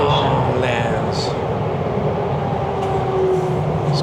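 Inside a Toronto subway train between stations, a loud, steady rumble of wheels and motors fills the car, with faint squeals now and then. A voice talks over the noise.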